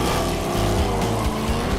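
A project car's engine revs and rumbles loudly as it pulls away, a deep steady throaty drone with slight surges, heard close without talking.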